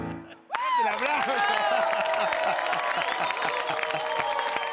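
A live concert crowd erupts into applause and cheering after a sudden start. Loud, dense clapping carries on steadily with a voice and rhythmic musical tones running through the noise.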